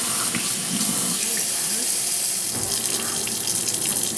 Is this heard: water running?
yes